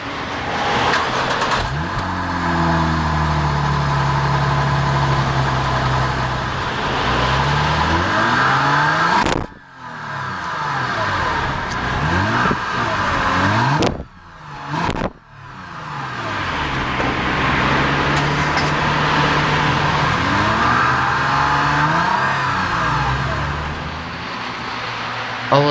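A 2014 Lexus GS 350 with a 3.5-liter V6 runs and revs repeatedly, its engine pitch climbing and falling in long sweeps, loud and close, with brief gear-shift dips and no talking.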